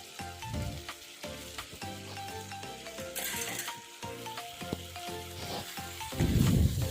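Pointed gourd and potato pieces frying in a pan, a steady sizzle up close with repeated clinks and scrapes of stirring, rising to a louder burst near the end, with music playing throughout.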